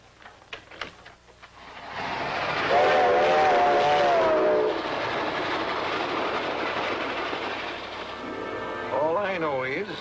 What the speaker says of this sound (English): All I know is Chief Land sent out a request for one of us to catch this train and ride in with you.